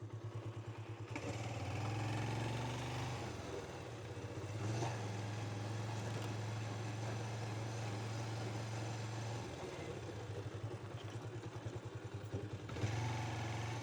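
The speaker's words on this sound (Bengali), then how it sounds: "বাইক দেখা যাচ্ছে দুইটা।" Two motorbikes pass on a rural road near a hillside temple, their engines droning in a low steady rumble that swells and fades, heard at moderate distance with no one speaking.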